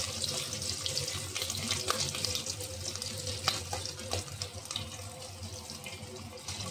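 Hilsa fish pieces frying in hot oil in a wok, giving a steady, close crackling sizzle with sharp spits and pops scattered throughout.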